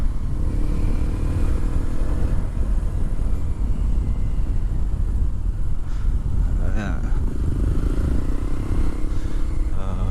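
A Honda CRF dirt bike engine drones steadily throughout on a rocky trail, rough and close, with brief rattling and a faint voice mixed under the noise.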